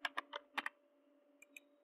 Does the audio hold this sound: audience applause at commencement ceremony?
no